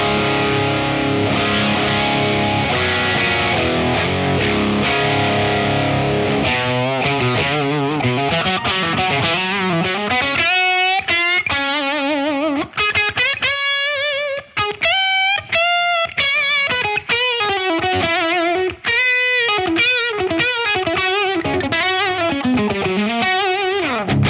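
Electric guitar through a Victory V4 Duchess amp with the Revival drive gain boosted, a low-gain rock tone of strummed distorted chords giving way to bending lead lines and choppy riffs, loud and steady with no speech.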